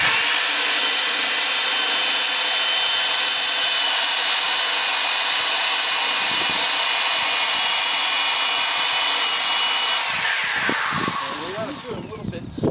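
Power drill boring holes into a plastic bucket: a loud, close, continuous high whine lasting about ten seconds, then winding down into rattling and handling noise.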